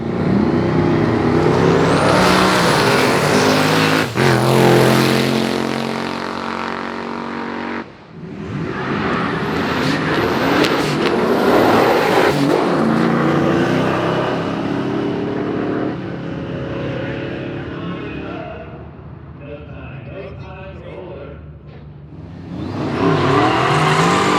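A Chevrolet Nova drag car launching at a drag and drive event, its engine roaring loud and close with rising revs, breaks between gear pulls, and a renewed surge at the end.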